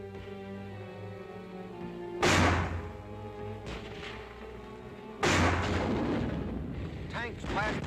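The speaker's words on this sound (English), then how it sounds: "With mortars to help cover their advance." Mortar fire covering an infantry advance in wartime combat footage: two heavy booming blasts a few seconds apart, each with a long rumbling decay, loud and near over a low steady drone.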